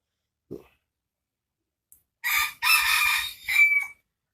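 A rooster of Burmese chicken breeding crows once, loud and close, in a drawn-out call after a brief faint sound beforehand.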